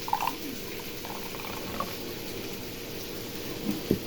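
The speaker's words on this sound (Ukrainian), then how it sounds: "Та наливаємо чашечку, там чай, ту чашку." Tea is poured into a cup, giving a soft, steady liquid trickle that runs quietly through the whole stretch without any talking.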